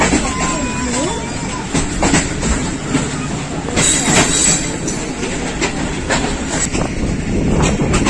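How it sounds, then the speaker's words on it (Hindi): Allama Iqbal Express on Pakistan Railways rolls steadily past close by near the platform at Narang, with loud continuous rumble, clickety-clack wheel beats and some wheel squeal throughout. "नाइन अप अल्लामा इकबाल एक्सप्रेस नारंग पहुंच रही है"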